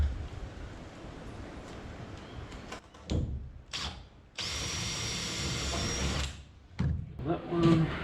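A power drill drives screws into a boat floor in several close whirring bursts of differing length, separated by brief pauses and handling noise.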